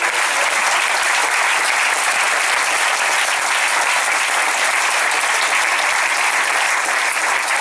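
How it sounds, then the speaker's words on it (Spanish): Sustained loud applause from a church congregation, a dense, even wash of many hands clapping steadily throughout with no talk over it. "Den un aplauso a Cristo el Señor"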